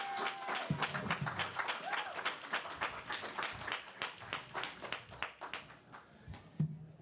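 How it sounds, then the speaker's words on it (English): An audience at a political event gives a big round of applause welcoming Senate candidate Jeff Bell, dense steady clapping that holds for several seconds before tapering slightly. "Let's bring up with a big round of applause"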